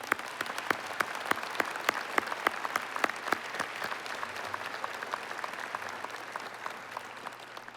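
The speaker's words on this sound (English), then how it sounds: "Give that a round of applause, please." Audience applause fills a university presidential investiture ceremony: dense, steady clapping from a large crowd, sustained and even throughout, heard from a moderate distance with no speech over it.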